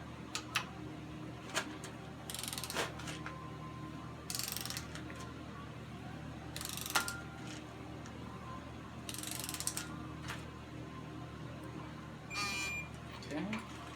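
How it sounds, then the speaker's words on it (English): Torque wrench ratcheting engine bolts to 250 inch-pounds during a Chrysler 3.5 engine rebuild, with several bursts of quick metallic clicking spread over the clip against a steady shop hum. "I'm gonna set up to 250 inch-pounds and tighten them up."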